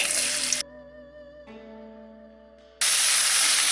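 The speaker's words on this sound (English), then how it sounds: "it's time to get a good glug of oil into whatever pan you're using, and then it's in with your veg" Vegetables sizzle loudly in hot oil in a pan for king prawn chow mein: a bright hiss at the start cuts to soft tonal music, then the loud sizzle returns and holds to the end.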